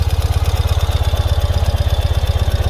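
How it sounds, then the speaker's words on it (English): A 2020 Ural Gear Up motorcycle's pushrod engine idles after a cold start with a steady, rapid low thumping pulse through dual exhausts, loud and close, with no voices. "So the bike fires right up off of a cold start without issue."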